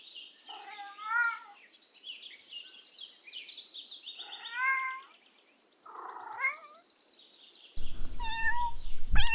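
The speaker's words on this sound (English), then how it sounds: "Cat." A domestic cat meows several times, each call a clear rising-falling mew separated by short pauses, fairly close and alone, with higher chirping sounds mixed in near the end.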